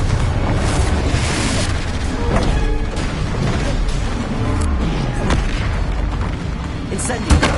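Confringo blasting-curse explosions in Hogwarts Legacy on PS5 boom and crash loudly, several heavy impacts overlapping in a dense, rumbling barrage, with a voice speaking faintly underneath.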